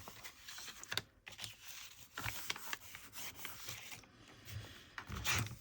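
Scissors cut through a scrap of paper in several quick snips and crisp rustles, close and fairly quiet, with handling noise of the paper between the cuts.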